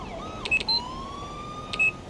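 Police car siren from a GTA 5 California Highway Patrol vehicle, a faint wailing tone sweeping beneath a few short electronic beeps, alone with no talk.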